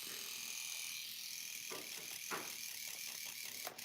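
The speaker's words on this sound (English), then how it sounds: "This is an eyebrow trimmer." A small battery-powered eyebrow trimmer, its battery running low, buzzes steadily and close up for the whole moment, a thin continuous motor whine with slight rattling flutters near the end.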